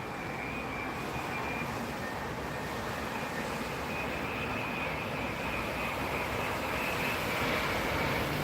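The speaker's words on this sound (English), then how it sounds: "let's watch this plane land first." Airplane landing on runway 27R at Heathrow Airport, a sustained loud engine roar with a faint high whine, steady throughout and gradually swelling toward the end.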